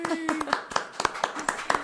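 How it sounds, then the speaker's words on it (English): A few people in a podcast studio clap in a quick, sparse burst of distinct hand claps while someone keeps talking over it. "Wow, that's a big round of applause."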